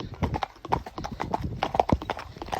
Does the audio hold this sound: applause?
no